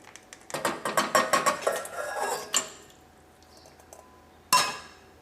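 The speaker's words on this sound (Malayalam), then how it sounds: "അതിന് വേണ്ടിയിട്ട് ഈ പാത്രത്തിലേക്ക് നമുക്ക് മൊയിലിറച്ചി ഇടാം." Pieces of fish meat tipped into a metal cooking pot, a quick run of clinks and clatters against the pot followed by a single sharp knock, close and alone.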